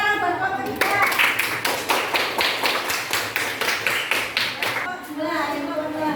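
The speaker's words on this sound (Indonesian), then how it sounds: "Tepuk tangan buat kelompok 3." A classroom of children claps in unison for a group, about fifteen evenly spaced rhythmic claps at moderate volume, with children's voices before and after.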